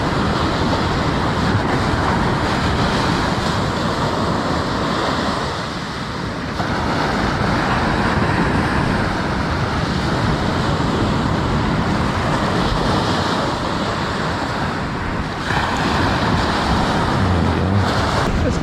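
Ocean surf at Gunnamatta beach in Victoria, Australia, a constant loud roar of breaking waves mixed with wind buffeting the microphone, with a couple of brief dips in intensity.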